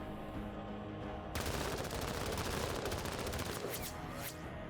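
Dense automatic gunfire erupts suddenly after a quiet moment in the Menace strategy game on expert difficulty, a rapid sustained fusillade of machine-gun bursts that stays loud to the end.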